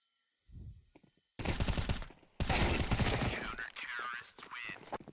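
MP9 submachine gun fire during a push in a competitive match, loud rapid bursts that fill most of the clip after a brief quiet start, with a commentator talking over the shooting.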